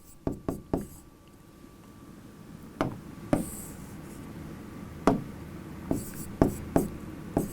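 A teacher writing on a board during a chemistry class, a series of sharp tapping and scratching strokes in short irregular groups with quiet pauses between, close and fairly faint, with no talking.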